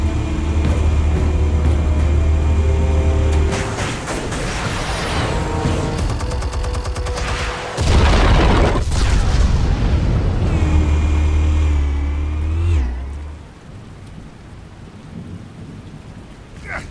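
Explosives detonating in Batman: The Telltale Series, heavy rumbling blasts and crackling debris that roll on for many seconds, loud and close, fading to a quieter tail near the end.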